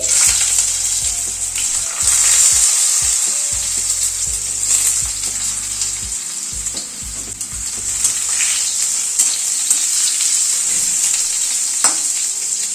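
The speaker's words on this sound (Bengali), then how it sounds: "প্রথমে একটু আলুগুলোকে ভেজে নেব।" Potatoes frying in a pan over an asafoetida tempering, a loud, close, continuous sizzle with occasional stirring scrapes and crackles throughout.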